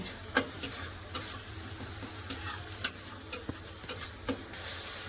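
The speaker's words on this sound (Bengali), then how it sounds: "সব মশলা ভালো করে কষে নেব" Spices with turmeric and salt stir-fried in oil in a pan for a Bengali fish curry: soft, steady sizzling under quiet, irregular scraping ticks of a spoon against the pan, close and faint.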